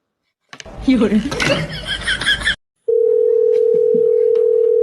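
A steady telephone dial tone during a phone call comes in after a burst of laughter and voices, a continuous flat electronic hum that runs alone to the end with faint clicks over it.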